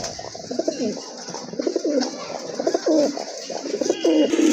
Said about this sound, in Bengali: আরেক জোড়া কবুতর, এটা অবশ্য ইন্ডিয়ান বোম্বাই কবুতর, বিগ সাইজের ঝুটি।